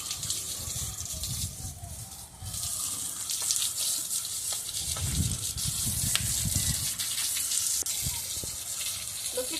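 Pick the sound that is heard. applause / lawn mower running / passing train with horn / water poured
water poured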